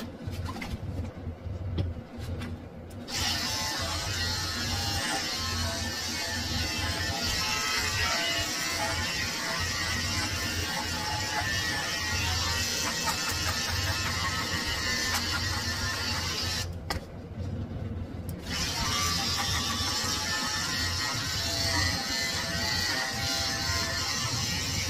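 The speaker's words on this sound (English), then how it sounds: "I'm just shaving his neck, moving his flea collar out of my way so I can shave around it" Electric clippers buzz steadily while shaving around a flea collar on a Pomeranian mix's neck at a grooming session, a close continuous hum with two brief pauses and no talking.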